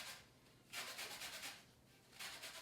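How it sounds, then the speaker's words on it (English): Orange zest grated into a bowl on the finest side of a grater for carrot cake, heard as two quiet bursts of soft scraping strokes separated by a pause. "get your grater on the thinnest setting and just literally grate all your orange into the bowl"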